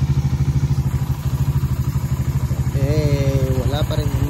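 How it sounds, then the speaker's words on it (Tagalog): A motorcycle engine runs steadily close by on a ride near Davao, its rhythmic low-pitched pulsing continuous throughout, with a rising tonal whine joining briefly near the end. "Ito yung motor natin boss."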